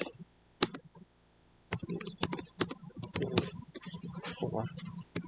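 Typing on a computer keyboard comes in bursts of sharp, close key clicks, with a brief pause near the start and then a quicker run of keystrokes under quiet talk.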